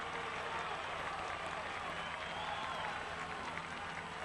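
Sellout stadium crowd applauding and cheering at a college football game, Appalachian State at Georgia Southern, a steady dense roar of clapping from far and wide that holds throughout.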